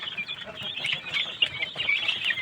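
Chickens clucking in a poultry enclosure, a string of short, high, irregular clucks and chirps repeating close by at moderate volume.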